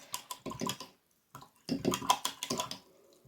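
A paintbrush is swished and rinsed in a pot of water during a woodland mobile craft project, making soft, quiet sloshing and splashing in two short bursts with a brief pause between them.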